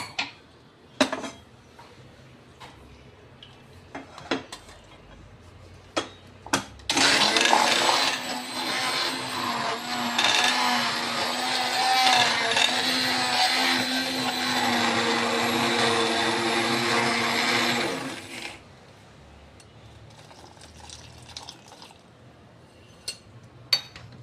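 A hand blender whirs loudly for about ten seconds in a pot of cooked lentils, surrounded by quieter clicks and clatter before and after.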